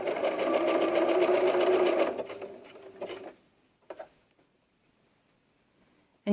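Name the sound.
sewing machine zigzag stitching elastic onto doll diaper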